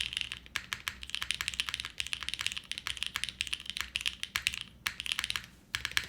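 Rapid, steady typing on a mechanical keyboard, close up, with deep clacky keystrokes in quick bursts and a brief pause near the end.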